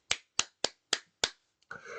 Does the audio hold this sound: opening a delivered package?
no